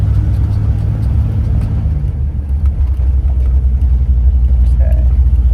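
A running Chevy K5 Blazer idles with a steady low engine rumble, later rolling down the road, with a faint intermittent mystery noise somewhere in the drivetrain; someone talks over the motor throughout.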